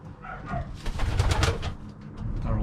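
Pigeons or doves cooing in their enclosure, soft low rolling coos repeating and overlapping from several birds nearby, with light rustling between calls and no talking.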